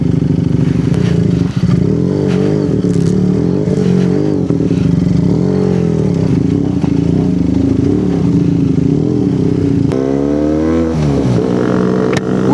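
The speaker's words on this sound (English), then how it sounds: "We just removed the DB killer from Nafi's bike." A QJ Motor SRK 250 RR motorcycle with its dB killer removed gives a loud, raspy exhaust drone. It idles and rumbles steadily up close, then revs sharply up and down near the end.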